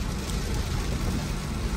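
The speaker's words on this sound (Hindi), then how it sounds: "ये देखें आहा तेज बारिश" Heavy rain roars in a dense, steady wash, heard from inside a car on a road between Islamabad and Naran Kaghan, with no talking.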